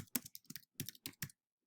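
Quick irregular keystrokes clatter on a keyboard close up, a short burst of clicks that stops near the end.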